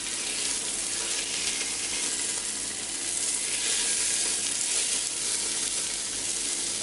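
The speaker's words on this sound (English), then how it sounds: "I want to brown the sausages first" Sausages browning in a pan sizzle steadily with a dense, even hiss that holds close and constant throughout, with no talking.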